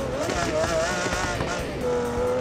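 A car engine in the BeamNG driving game revving loudly and continuously, pitch rising and falling with gear changes, with someone talking over it.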